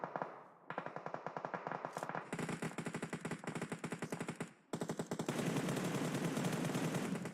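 Rapid automatic gunfire in the battle royale game Apex Legends, loud and close, coming in sustained bursts of evenly spaced shots with brief gaps before a denser final stretch.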